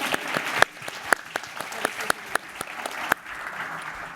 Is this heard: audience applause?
yes